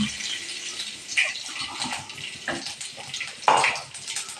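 Ground gravy poured into a cooking pot, a continuous wet splashing and gushing with a couple of louder spattering moments, close by.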